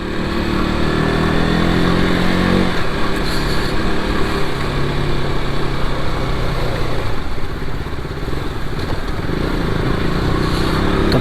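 A KTM RC 200 motorcycle rides through Mumbai city traffic, its single-cylinder engine buzzing loud and close with steady throttle, brief revs and surrounding traffic noise.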